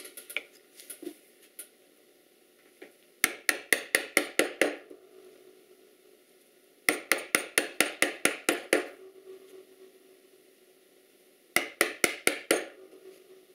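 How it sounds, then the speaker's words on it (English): A hand chisel struck repeatedly into pine while cutting a candle box: three bursts of about eight crisp, evenly spaced mallet blows each, close and clear, separated by quiet pauses. "I can still use this chisel"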